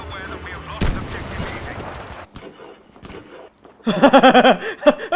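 Gunfire sounds in the online shooter Battlefield V, with a sharp crack early on and a cluster of bursts near the end, while players talk and laugh over it.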